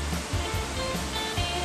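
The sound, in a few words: Seraya waterfall rushing water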